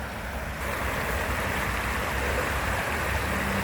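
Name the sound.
creek water running off in a park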